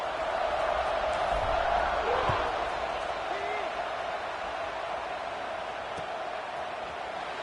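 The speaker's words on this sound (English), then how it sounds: "this crowd is buzzing after that last score" A crowd in the College Football 26 video game on PS5 buzzes steadily after a score, a broad, even murmur that swells slightly and then settles, with commentary over it.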